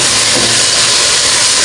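Shrimp paste sautéed with garlic, onion and tomato sizzles in a loud, steady hiss of frying oil, continuous and close throughout with no talk.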